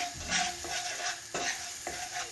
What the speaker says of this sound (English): now it's beginning to sizzle.